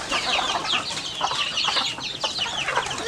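Chickens cluck continuously at close range, a busy cluster of short overlapping calls from agitated farmyard fowl, with no talking over them.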